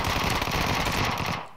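A Vector SMG fires a single sustained burst of rapid, rattling shots in PUBG, close and loud for about a second and a half before cutting off.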